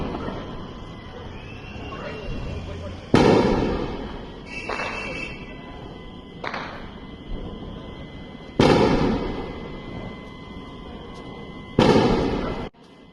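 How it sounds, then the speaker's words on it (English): Anti-aircraft systems firing, recorded on a phone: three loud, sharp blasts a few seconds apart, each trailing into a fading rumble, with fainter pops and steady tones in between and faint voices in the background. "was now sending me videos of anti-aircraft systems firing off."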